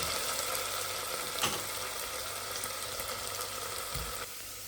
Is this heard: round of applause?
no